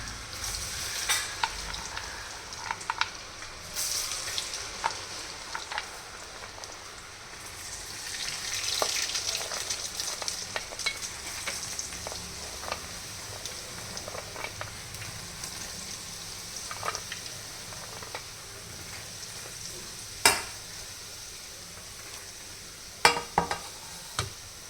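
A jackfruit dessert mixture fries in a pan, producing a continuous close sizzle with scraping stirs and occasional sharp pops and taps, moderately loud with no speech.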